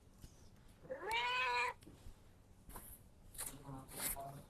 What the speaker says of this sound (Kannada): ಗೈಸ್, ಇಲ್ಲಿ ನೋಡಿ ಬೆಕ್ಕು.